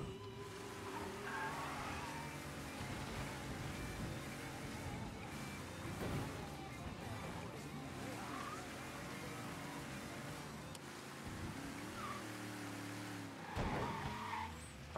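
Car engine in Mafia 3 revs and drones throughout, faint overall, with tires squealing in several skids and a louder surge near the end.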